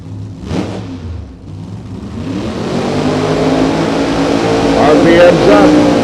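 Race car engines revving at Sonoma Raceway, a loud mid-pitched roar that builds and holds steady with rising pitch sweeps, under excited commentary from announcers.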